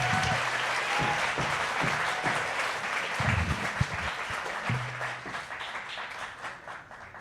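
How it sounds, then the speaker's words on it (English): Steady round of applause from an audience for young performers at a museum event, moderately distant and even throughout, with a few low voices underneath. "Can we have another round of applause for them,"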